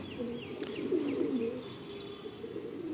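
A Madrasi pigeon offered for sale coos in a low, throaty, warbling run near the microphone, over a quiet room hum with a few faint chirps behind it.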